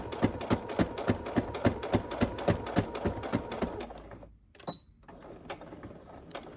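Sewing machine stitching a fabric mask, with a fast, even run of needle clicks that slows, stops briefly, then resumes for a back stitch.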